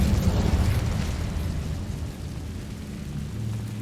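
An Incendio fire spell is cast in the Hogwarts Legacy video game, sounding as a loud, low, rumbling burst that slowly fades into a steady roar, with no voices over it.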